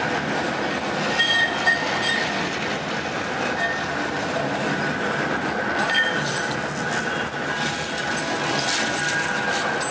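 A tram passes in Manchester city centre near Piccadilly Gardens with a continuous rumble, metallic clinks and faint wheel squeal. It is heard for about ten seconds amid busy street noise, with a few voices nearby.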